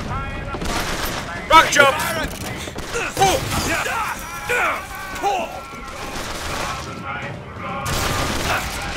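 Bursts of gunfire from the video game Bioshock Infinite, sharp blasts and crashes mixed into a busy game soundtrack, with excited voices talking over much of the action.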